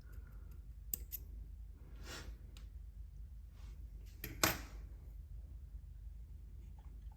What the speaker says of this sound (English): you can take your scissors, snip this little tag in